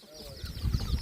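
Chickens cluck softly in the background of a Thai rural family setting, short irregular calls partly under low room noise.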